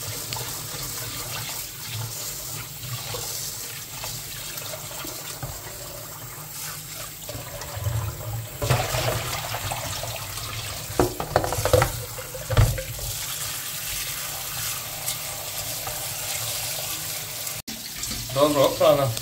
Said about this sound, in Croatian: I sapirate u lednoj vodi rižu, trebate dobro da perete